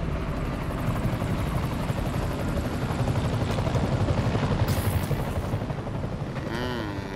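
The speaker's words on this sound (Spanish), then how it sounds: "Es helicóptero" A helicopter in the video game Spider-Man on PS4 thumps its rotor steadily and loudly throughout, a continuous rhythmic chopping with no voices.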